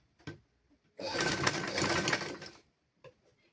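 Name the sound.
sewing machine stitching a seam on children's garment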